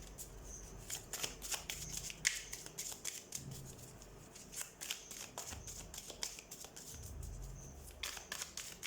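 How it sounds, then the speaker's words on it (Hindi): Oracle cards are shuffled close up in a rapid string of crisp riffling flicks and soft card slaps, continuous and fairly quiet, with no one talking. "सबसे पहले हम कार्ड शफल कर लेते हैं"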